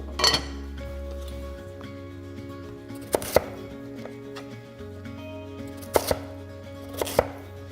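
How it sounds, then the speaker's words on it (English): Sweet potato chopped with a knife on a board, a few sharp isolated chops spread apart over a quiet room hum with a low tone at the start, no talking. "now we have our beautifully chopped sweet potato"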